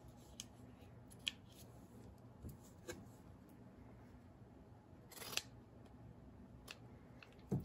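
Scissors trimming excess fabric length while making a quilted mug rug, a few faint, sparse snips and clicks over a quiet background.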